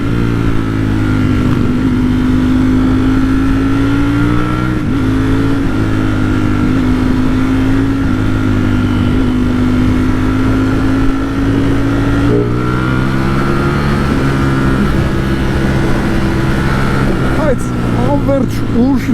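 Ducati Streetfighter V4S motorcycle engine heard from the rider's position, a steady loud drone with shifting pitch as it cruises and changes gear, talk running over it throughout.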